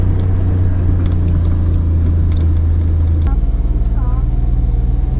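A farm feed truck drives along with a steady, loud engine rumble and road noise throughout, a slight shift in engine tone midway, and faint voices underneath.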